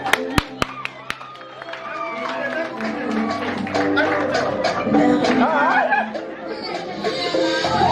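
A few sharp claps, then a crowd at a civil wedding in Garoua breaks into loud, sustained applause mixed with cheering, laughter and chatter, growing fuller toward the end.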